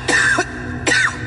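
Two harsh, close coughs from a man with a worsening night-time cough, each burst short and loud, separated by a brief pause.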